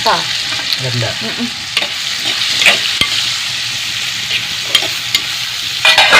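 Two onions sauté with turmeric powder in a pan for a Kerala curry, a loud continuous sizzle broken by repeated spoon scrapes and clatters.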